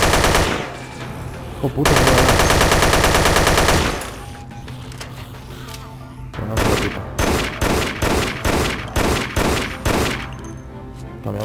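Loud gunfire in the video game Dead Effect: a long sustained automatic burst, then a run of evenly spaced heavy shots. A man exclaims briefly over it.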